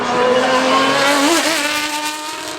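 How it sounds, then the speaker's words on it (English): A race car driven by Justin Moore climbs the Goodwood Festival of Speed hill, its engine loud and close with a steady high howl. The pitch dips briefly near the middle, then climbs again before fading slightly. "And this car, driven by Justin Moore, always hugely impressive, but also hugely fast up the hill."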